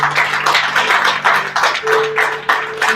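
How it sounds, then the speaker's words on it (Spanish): A church congregation claps together in strong, fairly rhythmic bursts, loud and close, with a faint sustained tone running underneath. "Den un fuerte aplauso al Señor"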